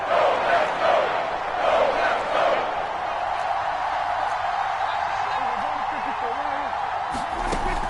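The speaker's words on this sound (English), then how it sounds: "the crowd getting into it as we come up on a big 3rd down" A football stadium crowd roars before a big third down, a broad, far-off wash of cheering that swells in the first seconds and then holds as a steady din, with faint voices and a few sharp knocks.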